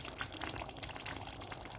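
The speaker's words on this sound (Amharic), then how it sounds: "ውሃ ከልሳለሁ ማለት ነው።" Water is poured into meat cooking in a pot, a soft, continuous splashing hiss that stays faint and even from start to finish, with no voices.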